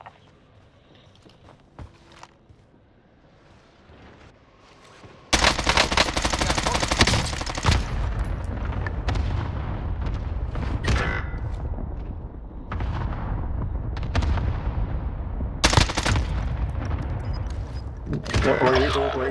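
Bursts of automatic gunfire in a military shooter video game, loud and close, starting abruptly after a quiet stretch and continuing in rapid volleys with sharp single cracks, with players talking over it.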